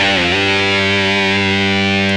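Yamaha MX49 keyboard playing a guitar preset with a distortion effect: one sustained, buzzy, heavily overdriven chord with a quick pitch wobble at the start, loud and close, cutting off after about two seconds.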